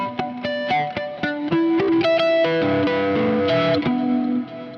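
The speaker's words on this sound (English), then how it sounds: "there are multiple cool things you can do when you only look at harmonics on the neck" Bright chiming harmonics are picked across the neck of an electric guitar through a distorted, chorus-laden effects patch, a loud, close, ringing sequence of bell-like notes shifting pitch over several seconds, no talking.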